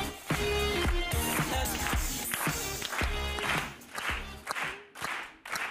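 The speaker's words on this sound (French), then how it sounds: "On l'applaudit." A television studio audience breaks into lively applause with cheering, a loud sustained burst of clapping that thins into scattered claps toward the end.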